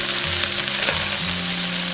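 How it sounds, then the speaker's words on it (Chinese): Chopped scallion and ginger stir-frying in hot cooking oil in a wok, a loud, dense continuous sizzle with faint stirring underneath, close up and uninterrupted. "下入葱姜炒香"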